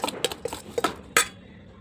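Chilli pickle stirred with vinegar in a metal vessel, giving a few sharp, fairly close spoon-against-pot clinks and scrapes spaced irregularly over under two seconds, with no talking.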